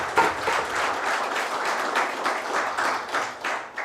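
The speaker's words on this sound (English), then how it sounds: "Round of applause, ladies and gentlemen." A crowd applauds at an entrepreneurship start-up event, with steady, dense clapping from many hands that holds an even, moderately loud level throughout.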